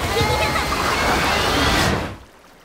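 Rushing cartoon waterfall water, a loud continuous broadband wash that holds steady and then drops away abruptly near the end, with voices present in the mix.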